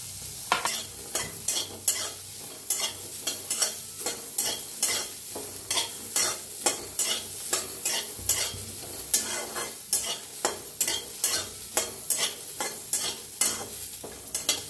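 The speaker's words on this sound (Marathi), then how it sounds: "आता भाजून घेऊया हलकासा कांदा, अद्रक, लसूण" Onion, ginger and garlic being dry roasted in a pan without oil, heard as a regular series of scraping stirs with a faint sizzle underneath, fairly quiet and close.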